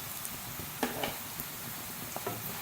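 Moringa root pickle being mixed with chilli, turmeric and salt, giving a steady soft frying-like hiss with a few small scraping clicks of the spoon, close and quiet, no voices.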